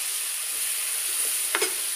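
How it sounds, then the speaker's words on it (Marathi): Onion frying in a pan until golden, a steady soft sizzle filling the short stretch with a brief louder scrape or stir near the end; no voices. "आता हे व्यवस्थित कांदाही भाजून घेते। छानसा गोल्डन कलर येईपर्यंत"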